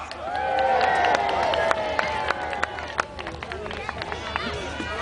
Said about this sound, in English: And in the knights go, to give them a cheer!